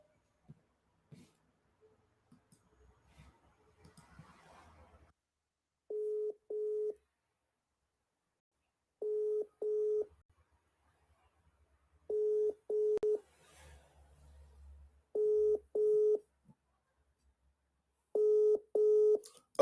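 Telephone ringback tones come in paired bursts, repeating at regular intervals over a faint, quiet line, with a few soft background noises between the rings.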